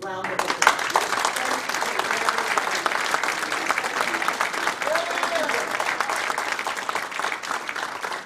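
Audience applause at a Gardena Police Foundation event, a sustained, fairly distant roll of many hands clapping with a voice faintly over it.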